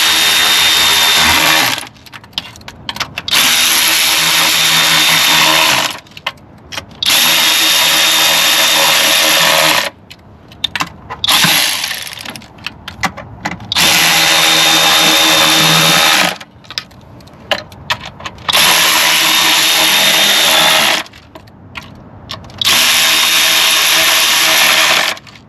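Ignition coil bolts on a 3.6 L Dodge Charger engine driven with a power tool in several loud bursts of whirring, each a few seconds long and separated by short pauses.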